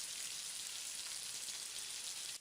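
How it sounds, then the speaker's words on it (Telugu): Sliced onions, green chilies and lentils with garlic frying in oil in a pan for a spinach stir fry, giving a steady, even hiss of sizzling throughout, close and fairly quiet. "ఉల్లిపాయలు బ్రౌన్ కలర్ వచ్చే వరకు ఫ్రై చేయాలి."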